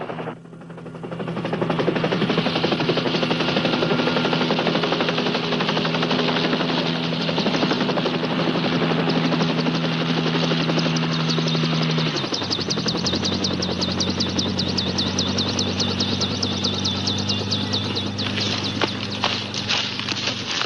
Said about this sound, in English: the chopper's got all the weight she can carry